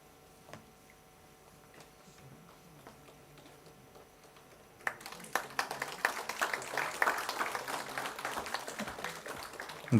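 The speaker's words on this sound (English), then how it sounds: "A big round of applause" A quiet hall at a Goa science award ceremony bursts into audience applause about halfway through, with many hands clapping steadily and fairly near after a hushed stretch.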